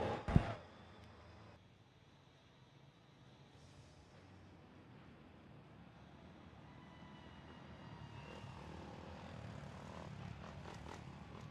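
FMX motocross motorcycles on a Monster Jam arena track, a distant buzzing engine drone that builds slowly, with a sharp bang at the start and crowd ambience in a large stadium.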